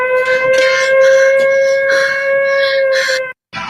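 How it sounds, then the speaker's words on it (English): A wailing siren sound effect holds a steady harmonic tone, loud and close, running for over three seconds before cutting off abruptly near the end. "the siren obviously was an effect added afterwards"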